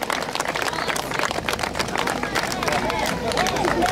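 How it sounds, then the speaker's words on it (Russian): A crowd applauds junior autocross racers at a prize-giving ceremony, dense clapping and crowd noise filling the whole stretch with a voice talking over it. "Ваши аплодисменты нашим юниорам старшей группе"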